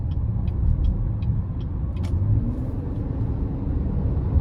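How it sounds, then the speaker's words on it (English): A 2023 Chevrolet Traverse Premier with its 3.6L engine pulls onto the interstate under moderate throttle, a steady low rumble of engine and road noise from inside the cabin, with a faint rising drone and no talking. "I'm going to give it a bit of throttle getting on the interstate here"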